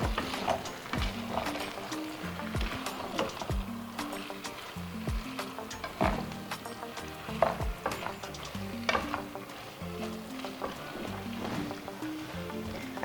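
Gizdodo, gizzard and plantain, sizzles in a pan while being stirred, with a continuous soft frying hiss broken by repeated scraping and clinking stirs, close and fairly quiet.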